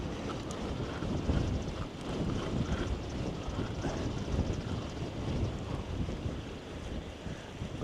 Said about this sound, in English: Bugger that wind.